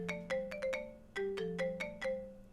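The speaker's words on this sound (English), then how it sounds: "My phone rings, interrupting my thought." A cheerful electronic phone ringtone in the Café Enchanté visual novel plays alone as a bright repeating melody of short tones, loud and close, with no talking.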